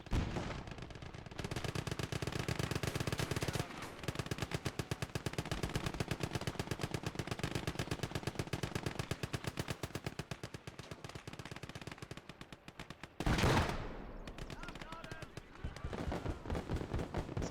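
Sustained MG42 machine gun bursts in a Gates of Hell battle, rapid rattling fire running near continuously with a brief louder blast partway through and further firing after.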